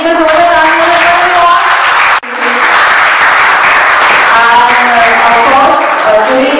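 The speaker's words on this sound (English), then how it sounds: "So let's give a big round of applause for yourself." Loud, continuous applause and clapping from an audience at the launch of the facelifted Volkswagen Polo and Vento in India, briefly cut off about two seconds in, then resuming at full strength.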